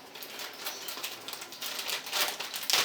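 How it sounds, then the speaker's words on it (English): Quick, crisp snipping and rustling of plastic packaging cut with scissors at close range, a series of short cuts with crinkling in between, no voices. "firstly you use scissors to cut it"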